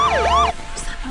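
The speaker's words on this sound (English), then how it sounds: "It's sirens." A wailing siren sweeps up and down loudly for about half a second, then fades into faint background noise with a brief high tone.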